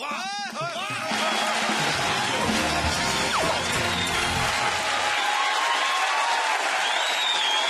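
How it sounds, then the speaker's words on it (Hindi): A studio audience at a comedy show claps in a steady, loud stream of applause with some cheering mixed in, continuing unbroken for several seconds. "ये तालियां क्यों बज रही हैं?"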